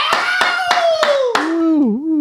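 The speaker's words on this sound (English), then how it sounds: "It's a 2-man applause." Two people applauding on an interview show: about five sparse, evenly spaced claps under a loud, sustained voice whose tone slides downward.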